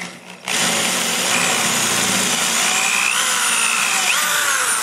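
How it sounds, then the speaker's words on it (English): A 1/4 inch power drill bores holes in a Harley-Davidson Tour-Pak, whining loud and steady after a sudden start, its pitch wavering slightly as it cuts, with no talk over it. "Use a 1/4 inch drill"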